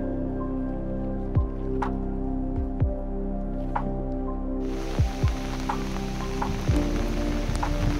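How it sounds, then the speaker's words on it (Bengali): Steady rain falling during Cyclone Remal in Purba Medinipur, a constant hiss of rainfall with scattered drips and splashes, close and continuous throughout. "আজ সকাল থেকেই পূর্ব মেদিনীপুর জেলার সর্বত্র মেঘাচ্ছন্ন এবং চলছে বৃষ্টি"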